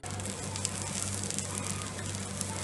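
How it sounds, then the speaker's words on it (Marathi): Chana dal fries in ghee with a steady, dense sizzle and crackle, close and even, with a faint low hum underneath and no talking. "त्या तुपामध्ये छान परतवत राहायचं हे साधारण 1 मिनिट तरी"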